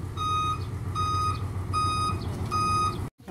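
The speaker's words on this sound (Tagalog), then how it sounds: "Yun na yung truck" A truck on a farm sounds its reversing alarm: four evenly spaced, loud, steady electronic beeps in a regular rhythm, cut off abruptly at the end, with no talking.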